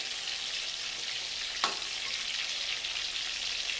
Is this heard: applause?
no